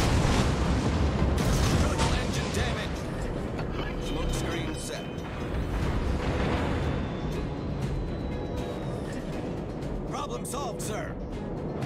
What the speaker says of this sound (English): And here's the first shots coming at us.